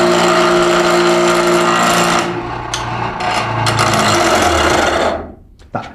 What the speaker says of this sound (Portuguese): através da forma da centelha que o material emite ao ser atritado num esmeril